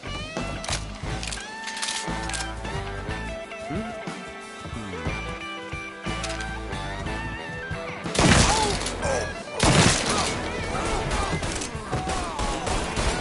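Gunfire in the video game Mafia III, with repeated sharp shots and heavier blasts over a dense backdrop of game music and effects, two louder bursts stand out late; voices talk over the action.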